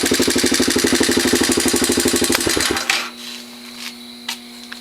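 A Chinese 110cc ATV engine idles close by with a rapid, rattling beat and a ticking valve, then cuts off abruptly, leaving a faint hum and a couple of small clicks.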